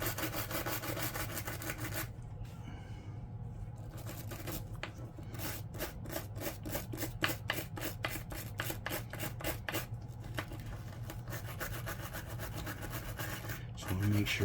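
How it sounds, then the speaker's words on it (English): A stiff plastic brush scrubs grease from Zebco 202 spinning reel parts and gears, giving close rhythmic scratchy strokes that speed into quick, regular back-and-forth bursts. "Penetrating oil, my stiff plastic brush from Harbor Freight works real good."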